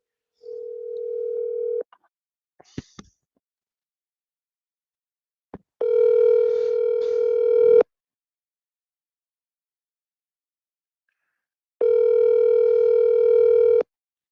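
Outgoing phone call ringback tone, a steady pulsed ring repeating in long bursts separated by silence, with a short dial-like tone and faint clicks at the start; no talking.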